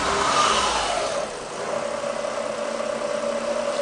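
Ford Territory engine running at idle after a start, a steady close mechanical hum with a brief higher rev at the beginning that settles into an even drone.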